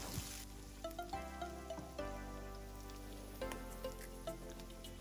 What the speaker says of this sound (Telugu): ఆనియన్స్ కలర్ టర్న్ అయ్యే వరకు 2 మినిట్స్ వేయించుకోవాలి